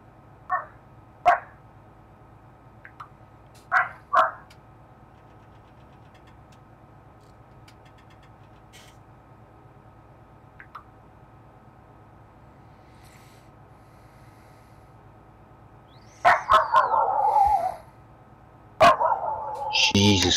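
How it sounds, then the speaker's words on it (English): A dog barking on a farm in Farming Simulator 2017, a few sharp single barks spread out early on, then longer bursts of close, loud barking near the end over a steady engine hum. "Whose is that? Fucking dog."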